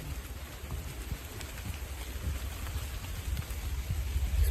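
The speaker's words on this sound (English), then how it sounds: "It'll be just the rain anyway." Rain falls in a forest at night, a steady close patter of drops on leaves and surfaces with a soft low rumble underneath, gradually growing a little heavier.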